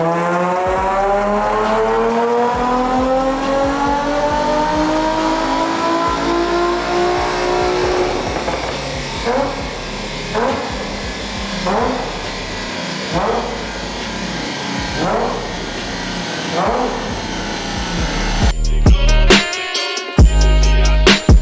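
Tuned car running on a dynamometer after an E85 ethanol remap, engine revving loud and close, with rising harmonics as it climbs through the gears, then a series of rhythmic pulses and a sharp burst of noise at the end.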